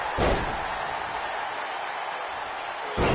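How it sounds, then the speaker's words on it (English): Powerbomb in WWE 2K24, a heavy body slammed onto the ring mat: one loud thud at the start and another at the end, with a dense roaring crowd in between. "Slamming him down into a powerbomb."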